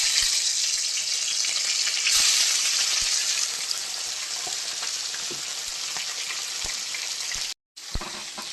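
Prawns frying in hot oil in a pan, a steady loud sizzle with occasional pops and clicks, briefly cut off near the end before the sizzle returns, with no voices.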